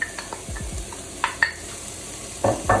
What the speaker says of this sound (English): And we fry this for 2 minutes with all the ingredients in it.